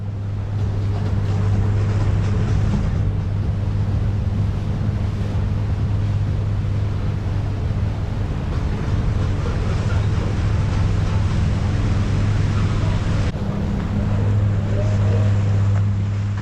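A boat idles along a waterway with a steady low engine drone under wind noise, continuous and loud throughout with no talking.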